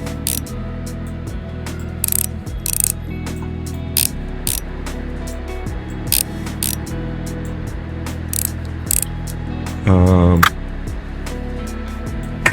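Small screws are driven back into an electronic device during reassembly, giving a steady series of close ratcheting clicks from the screwdriver, with a longer mechanical rattle near the end.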